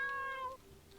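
A single brief cat meow from the video game Sydney's World, clear and tonal, lasting about half a second before fading into quiet background.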